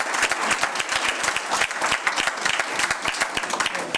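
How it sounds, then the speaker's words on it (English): An audience at a candidate forum applauds the four Board of Supervisors candidates with a steady, dense burst of many hands clapping. It is loud and continuous from start to finish, with no talk over it. "a round of applause for all 4 of our candidates"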